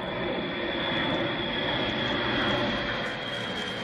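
Steady roar of an airplane engine overhead, a broad continuous rushing drone with a faint high whine, holding level throughout.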